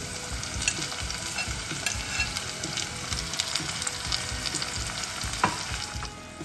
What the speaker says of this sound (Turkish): Biberlerimiz biraz kavruldu. Şimdi içine 1 adet domates ekliyorum.